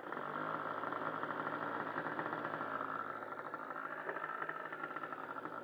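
A model airplane engine with a carburetor from a 46 FSR runs steadily, a continuous buzzing drone heard close and without talk, out in winter flying conditions.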